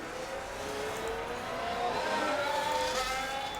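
Formula 1 car engines in the F1 Manager 23 racing game during the final lap of the Miami Grand Prix, a steady high-pitched whine holding at a constant loud level.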